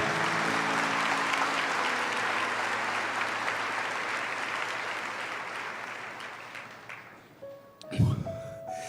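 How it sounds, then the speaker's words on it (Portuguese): An audience at a religious book launch applauds loudly and continuously, a dense steady wash of clapping that gradually thins and fades toward the end before a brief louder burst of sound. "Pode aplaudir com força."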